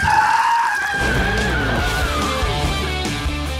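Mazda Miata skidding in a comedy movie trailer, a sharp tire screech cutting in after a high tone, then a loud rumbling slide with jumbled impact and commotion sounds.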